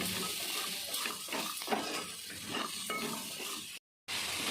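Cut cluster bean pieces fry in masala while being stirred in a pan, giving a continuous sizzle with regular scraping strokes, close by, broken by a brief silent gap near the end.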